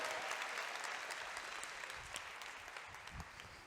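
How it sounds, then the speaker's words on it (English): Audience applause at a live influencers panel event, a steady dense patter of many hands that carries evenly through the whole span and eases slightly toward the end. "Give yourselves a round of applause if you're ready for that."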